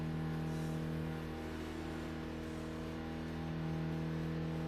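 A car engine in a driving video game holds a steady, loud, humming drone with a slight swell toward the end, sustained throughout without any talk.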